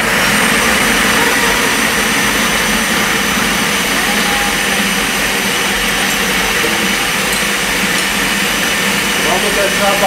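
A blender whirs as it mixes limonana, a continuous loud motor whine that holds steady throughout, with faint talk-like sounds in the background.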